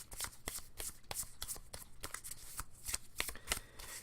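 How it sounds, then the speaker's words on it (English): Rapid papery riffling of a deck of Magic: The Gathering Ixalan trading cards being shuffled gently, close up, in repeated quick bursts with soft clicks between them. "Let's give it a more gentle shuffle."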